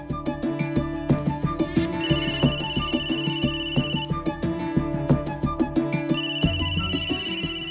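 A telephone ringtone plays loudly, a repeating electronic melody with bright sustained tones returning in cycles.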